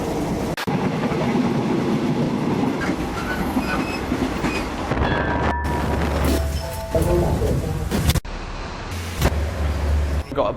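An overnight train running on rails, with a continuous rumble, rhythmic clacking of wheels, and occasional squeals and bangs, close and loud throughout.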